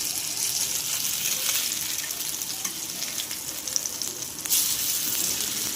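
Potato pakoras deep-frying in hot oil give a steady, dense sizzle and crackle, close and fairly loud, with a brief louder burst of bubbling near the end and no talking.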